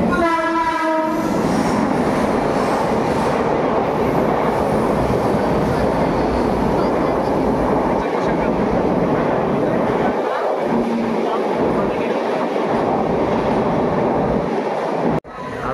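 A train passes at a Mumbai railway station, opening with a short horn blast and then a loud, continuous rumble and rattle of carriages close by, with faint voices underneath.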